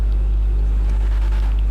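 The Truffade Adder's W16 engine in GTA drones at a deep, loud, steady rumble with a thick low hum throughout, without any speech.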